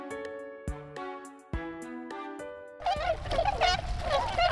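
Wintering tundra swans on a river floodplain give a series of close, honking calls, the first in spaced clusters and the later ones denser and overlapping, with no talk.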